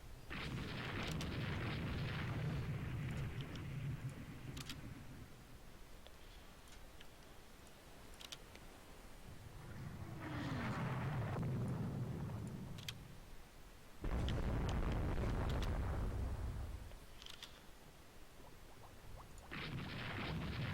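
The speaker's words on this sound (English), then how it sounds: "we hit that Fuji again with another torpedo" A torpedo strikes the sinking battleship Fuji in the naval strategy game Rule the Waves 2, giving several deep, muffled rumbling booms with quieter gaps between them, fairly faint and with no voices.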